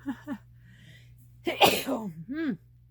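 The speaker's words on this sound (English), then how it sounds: "I don't think I've ever sneezed on camera before" One sharp, close sneeze bursts out after a couple of short breathy sounds, followed by a brief vocal trailing-off.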